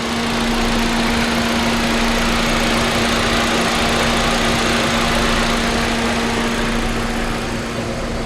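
A 2015 Kia Rio engine idles steadily with a constant low hum and vibration, loud and close, with no talking.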